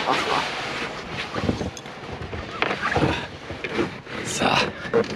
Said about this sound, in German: Es ist ein bisschen windig.